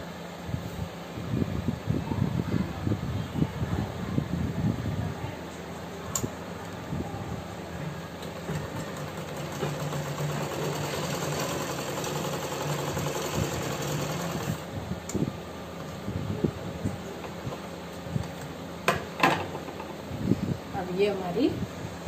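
Sewing machine stitching a pant with a belt at the front and elastic at the back, a steady mechanical whir running in bursts with pauses and occasional speech nearby.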